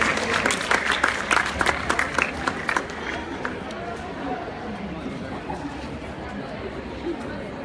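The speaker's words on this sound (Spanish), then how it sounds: "Y otro fuerte aplauso" A school welfare ceremony in Progreso where schoolgirls receive school supply packages draws crowd applause: sharp clapping bursts early that thin out into crowd chatter and murmur.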